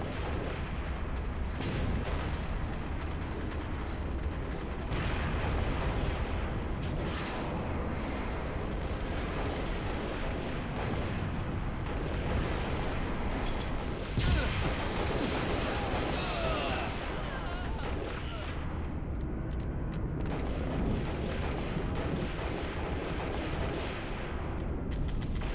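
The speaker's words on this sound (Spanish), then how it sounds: "Tú tírate a granada." Grenade blasts and gunfire in Halo Reach online multiplayer: a dense, continuous barrage of booms and shots that rumbles through the whole stretch, with people talking over the action.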